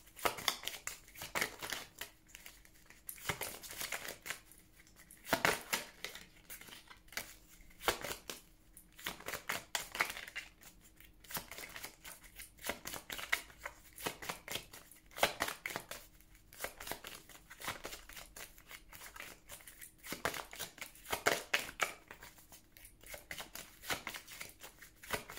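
Oracle cards being shuffled and drawn for a divination reading, a long run of quick papery riffles and soft slaps coming in repeated bursts, close and steady with no voice over them.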